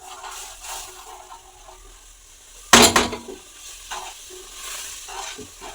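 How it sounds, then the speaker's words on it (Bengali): Roasted semolina is tipped into salted water in a pan and stirred, giving one loud splashing, scraping burst in the middle among quieter pan noises. "এই সুজি ভাজা সুজিগুলো জলের মধ্যে দিয়ে দেবো"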